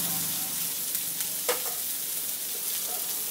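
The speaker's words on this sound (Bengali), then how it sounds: "এখন এটাকে 2 মিনিট মতো একটু ফ্রাই করবো, সবজিগুলো একদম সেদ্ধ হয়ে যাবে" Chopped vegetables and tomato fry in a pan as the base for a vegetable egg omelette, a continuous close sizzle with a few brief scraping stirs and clicks, no voices.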